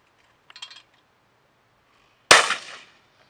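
A single loud shotgun blast at a clay-target shoot outdoors, a sharp crack with a short decaying tail, preceded by a few faint clicks and rustles.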